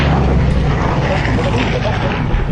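A Hawker Hurricane fighter passes overhead at an air display at Dunsfold, its engine a loud, continuous roaring drone that stays strong throughout, with an announcer talking over it.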